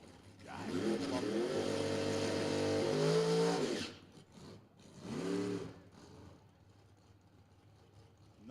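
Drag racing cars, a Chevrolet Malibu and a Nova, roar with engines revving; one long rising, wavering rev lasts several seconds, then a shorter second burst follows before fading to faint background rumble.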